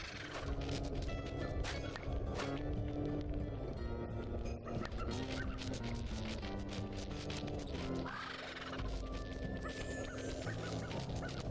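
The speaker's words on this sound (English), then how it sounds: "What is that bird and why is it screaming so loud?" A bird in the video game Sly 2: Band of Thieves squawks and gobbles loudly and repeatedly over game music and sound effects.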